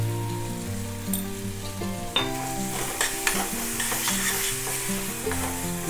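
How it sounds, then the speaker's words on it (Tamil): Masala with coriander powder and garam masala sautéing in a pan for a protein-rich gravy, a loud close sizzle broken by repeated clinks and scrapes of a spoon stirring against the pan, with no talk. "இது கொஞ்சம் வதங்கட்டும் இது கூடவே வந்து கொஞ்சோண்டு கரம் மசாலாவையும் சேர்த்துடலாம்"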